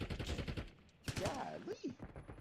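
Gunfire in the video game Call of Duty Warzone: bursts of rapid shots crackle through the match under continuous excited talk from players.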